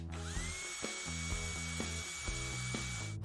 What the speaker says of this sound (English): Drill holes for ventilation.